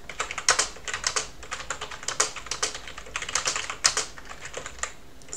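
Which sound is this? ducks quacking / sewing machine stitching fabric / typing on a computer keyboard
typing on a computer keyboard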